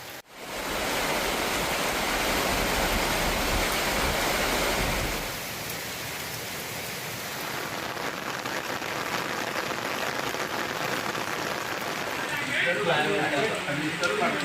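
Heavy evening rain pours down steadily over a town in Tiruppattur district, Tamil Nadu, a dense, loud continuous hiss that eases slightly after the first few seconds and carries on with no talk over it.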